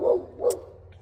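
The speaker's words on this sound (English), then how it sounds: "Excuse my dogs." Dogs bark nearby in two quick, sharp barks close together, loud and clear with little else around.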